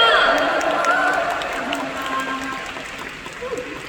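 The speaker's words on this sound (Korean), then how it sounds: "박수 한 번 쳐주세요!" Concert crowd applauding and cheering after an appeal for thanks to the staff, strongest at the start and fading gradually, with a voice over the crowd noise.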